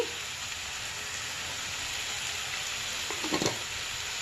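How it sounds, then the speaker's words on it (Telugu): Coriander seeds with cardamom and spices frying in a pan for a raw mango puffed rice masala, a steady close crackling sizzle with a brief stirring scrape near the end. "ధనియాలు వేయించుకొని గరం మసాలా, ధనియాల పౌడరు వేసుకోవాలి."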